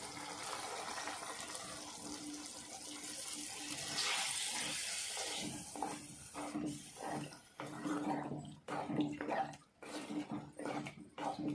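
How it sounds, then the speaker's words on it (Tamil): Water being poured into ground coconut paste for a chickpea curry, a steady gushing pour at first that breaks into intermittent splashes and trickles as the flow starts and stops. "அது கூடயே தேவையான அளவு தண்ணி ஆட் பண்ணிக்கலாம்."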